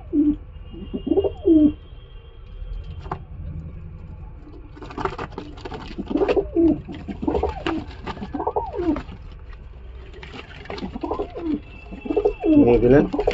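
Domestic pigeons suffering from a drying, wasting illness coo in repeated soft, throaty bursts close by, with a faint background murmur between calls.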